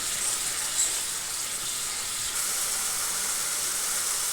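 Ginger and garlic paste sizzling in hot oil while being stir-fried for a pabda fish curry, a steady close hiss throughout with no talk.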